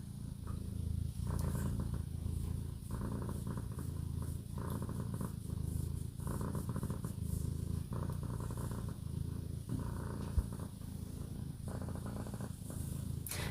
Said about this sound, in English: Open mouth purrs.